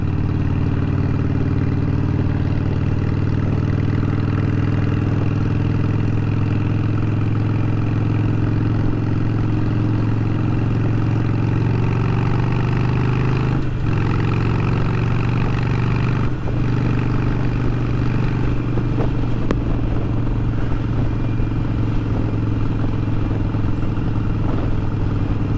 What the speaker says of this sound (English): What I'm riding is a Harley Sportster Super Low